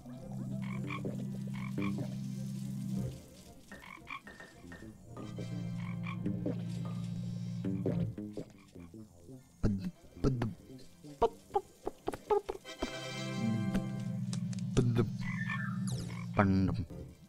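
Video game frogs croak in long, loud, buzzing repeated bursts, separated by short gaps, with someone talking in between and over them.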